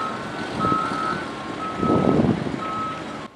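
A cargo truck's reversing beeper sounds in steady repeated tones at a hospital construction site with heavy machinery, set over a low engine rumble and a wash of outdoor noise.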